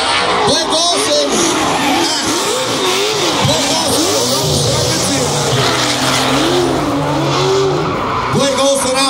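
A BMW drift car at a Formula Drift show at SEMA revs hard with screeching tire squeal and swooping engine pitch, loud and close, while an announcer talks over the roar and crowd noise.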